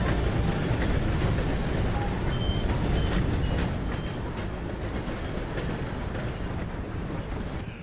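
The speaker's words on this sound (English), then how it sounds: "Gotta beat that train, Morgan!" Steam train in Red Dead Redemption 2 rumbling past in a dense, steady roar of wheels and engine noise, loud throughout and easing slightly after a few seconds, with no talk over it.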